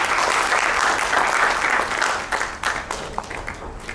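An audience at a women's celebrity cricket event applauds loudly with dense clapping that thins into scattered individual claps toward the end.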